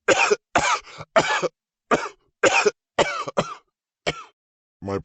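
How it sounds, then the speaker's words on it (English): A person coughs in a harsh, close fit of about nine sharp bursts, some doubled, separated by short silences, with a brief voiced sound right at the end. "How long have you had that cough?"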